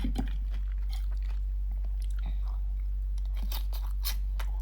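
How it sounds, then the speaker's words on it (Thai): Raw onion crunched and chewed close to the mic in a steady, wet rhythm of bites, with sharp crisp peaks over a constant low hum and no talking. "ขอลองหัวหอมอ่ะ"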